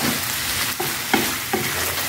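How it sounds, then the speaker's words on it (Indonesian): Spiced chicken frying in a pan gives a steady loud sizzle, and a few spatula scrapes break through as it is briefly stirred, close by with no voices. "Aduk-aduk sebentar,"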